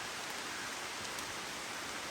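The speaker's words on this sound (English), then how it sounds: "I'm waiting for the rain to slack down" Steady rain falling outdoors around a small tree, a dense, even hiss of drops that continues without a break, with no voices.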